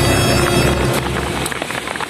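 Rain falling in Ditali, Culaw, Aurora, a dense steady patter on surfaces, close and fairly loud, with a low rumble underneath that drops away partway through.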